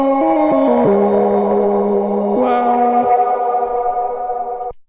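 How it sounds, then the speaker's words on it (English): Synth notes passed through a Polyend Mess effects pedal on its Roomy Escape preset, a short sequence of stepping tones that ring on and decay into a wide, lingering reverb tail. "Just realizing the reverb is coming from the Mess, actually, because the preset we're on is Roomy Escape."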